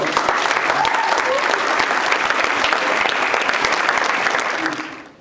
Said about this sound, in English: let's give those kids one last round of applause